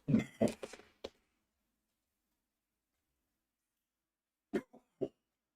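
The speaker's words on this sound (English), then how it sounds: "I'm gonna go clear my throat." A short throat-clearing rasp with a cough, then near silence, followed by two or three brief throat clears at the end.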